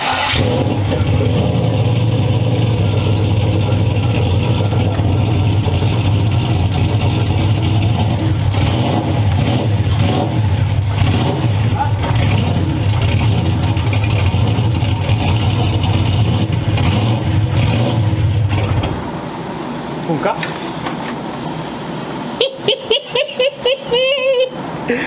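A V8 engine in a minibus runs loud and rough with a choppy, popping idle and revs close by for about twenty seconds, then cuts out, with people talking around it.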